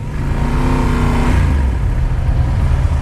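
Yamaha Super Tenere engine revving up near the microphone, a rising snarl that peaks and then drops back to a deep, loud rumble.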